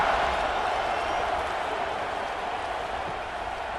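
Stadium crowd in a football video game broadcast, a dense continuous roar of cheering and noise that stays broad and steady, slightly fading toward the end.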